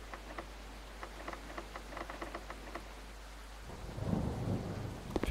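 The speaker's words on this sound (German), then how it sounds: "Oh oh, ich liebe ja Gewitter." A thunderstorm rolls through the indie horror game The Night Is Long: rain patters with scattered drops over low hum before a deep thunder rumble swells, with no voices.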